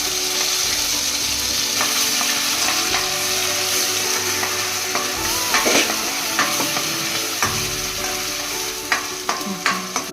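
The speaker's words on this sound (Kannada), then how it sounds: "ಹಾಗೆ ತುರಿದಿರೋ ಮಸಾಲೆನೂ ಚೆನ್ನಾಗಿ ಫ್ರೈ ಮಾಡ್ಕೊಳ್ತಾ ಇದ್ದೀನಿ." Grated masala and curry leaves fry in hot oil for a chicken curry, giving a steady close sizzle throughout with intermittent scraping and stirring clicks from the pan, a few sharper knocks near the end, no voices.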